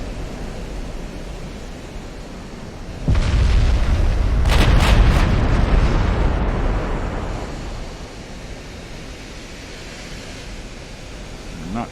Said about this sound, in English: I want to watch this thing fire